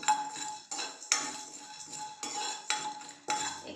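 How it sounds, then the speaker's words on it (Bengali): Spices dry-roasting in a pan, heard as about six separate metallic clanks and scrapes of a utensil against the pan, each followed by a short ringing tail, fairly quiet and close, with no talk. "এই যে হালকা রোস্ট করে নেবো,"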